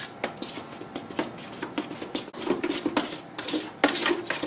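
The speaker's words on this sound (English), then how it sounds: "Start to mix it just like cake batter." Feathercrete being hand-mixed like cake batter makes a quick run of close, uneven scraping, rubbing and gritty knocking strokes that grow busier toward the end, with no talking.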